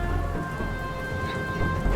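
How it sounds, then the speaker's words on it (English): Steady rainfall in the video game Dustland Delivery makes a continuous wash of noise with a low rumble under it, even and moderately loud throughout, with no talking. "Oh, it's raining."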